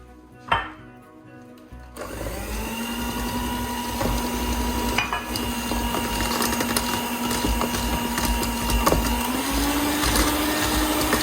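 An electric beater whirs steadily as it mixes sugar into blueberry trifle pudding ingredients, a close, continuous motor drone with a sharp knock near the start before it begins.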